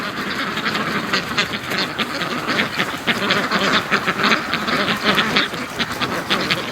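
A crowd of Muscovy ducks chatters and quacks continuously nearby, a dense, busy wash of bird calls with no pauses.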